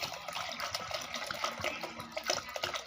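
About two liters of water pour into a pot for boiling, a steady close splashing and gurgling stream that runs continuously and fairly loud, with no talk over it.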